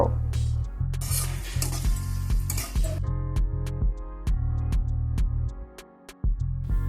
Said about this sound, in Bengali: পেঁয়াজটা কিছুটা ভাজা ভাজা হয়ে গেলে